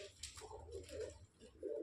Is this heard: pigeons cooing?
yes